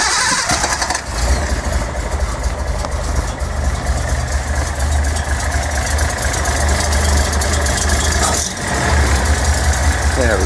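Datsun 240Z engine idling after a new radiator install, a steady loud low rumble with a constant throb running close throughout, dipping briefly once.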